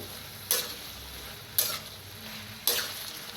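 Chilli powder and coriander powder masala roasting in a pan for a pumpkin dish, with three brief scraping stirs of a spoon over a faint, steady sizzle, spaced about a second apart, close and fairly quiet.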